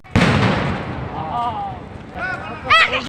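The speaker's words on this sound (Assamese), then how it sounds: "যিহেতু আহি পালোঁ এতিয়া বোমা বাৰুদ আৰম্ভ। চাওকচোন বোমা বাৰুদৰ অলপ শব্দ।" Firecrackers burst loudly at a wedding procession in Assam, a sharp close blast that fades into rumbling noise, with voices calling out over the crowd din.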